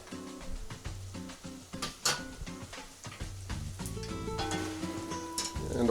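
Garlic sizzling in a hot pan as a mushroom soup base cooks, a soft steady frying crackle with scattered clicks and taps of utensils against the pan, fairly quiet with no talking.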